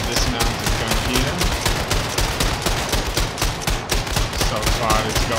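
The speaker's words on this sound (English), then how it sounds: "I'm going to blast them using this mounted gun here" A mounted machine gun in Wolfenstein II: The New Colossus hammers out rapid, sustained automatic fire, dense and loud, with a few stray metallic pings and faint combat clutter mixed in.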